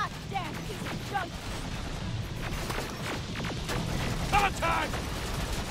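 Rapid bursts of gunfire and clattering, mechanical battle noise fill a fight in the video game Terminator Resistance, loud and continuous, while a character shouts over the combat.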